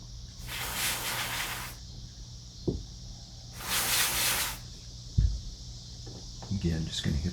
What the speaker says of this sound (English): just going to hit those with a little contact cleaner